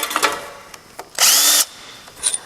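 A power tool zips bolts off a Ford tractor's cylinder head during a head gasket job: a short, sharp whirring burst, with scattered metallic taps and clicks before it and a faint clatter after.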